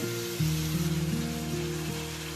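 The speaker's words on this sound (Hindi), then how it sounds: "यहाँ मैंने 2 मिनट जिंजर गार्लिक के साथ गोश्त को भूना है" Meat frying with ginger garlic paste in a pan gives a steady, soft sizzling hiss beneath louder melodic background music, continuous across the short stretch.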